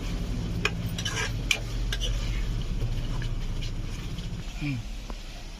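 Eggplant curry (stuffed gutti vankaya) being stirred in a pan, with a steady scraping and light clinks of the spoon against the metal under a constant background hum, while a person speaks over it.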